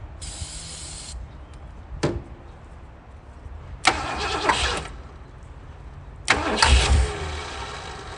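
Engine of a 1967 Lincoln being cranked and coaxed to life: a low steady starter churn with a few short bursts of firing, the last and strongest one catching briefly with rough low rumble before fading, heard close with no talking.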